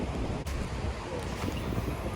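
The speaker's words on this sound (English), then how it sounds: "The wind blew me right into the rock." Wind gusts steadily across the microphone beside a high mountain stream, a dense continuous roar filling the short stretch with no pauses.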